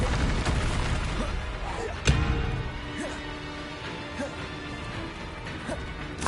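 In Hogwarts Legacy, the Confringo explosive spell sets off a sharp smashing blast near the two-second mark. Smaller whooshes and impacts follow over steady game ambience, and nobody speaks.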